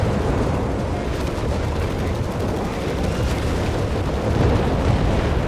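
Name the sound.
incendiary artillery barrage explosions in video game Company of Heroes 3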